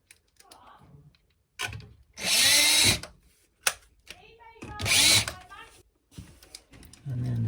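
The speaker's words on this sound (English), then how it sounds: "we can screw it to the wall" A power drill drives screws into wall plugs while fitting a double power socket, with two loud whirring bursts of about a second each between quieter handling noises and a voice speaking.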